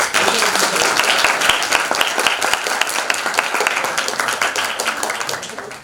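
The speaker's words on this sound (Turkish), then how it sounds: "o zaman alkışlar gelsin" An audience at a lecture on Antarctica gives a speaker sustained, dense applause from many hands, steady and fairly loud in a hall, tapering off at the end.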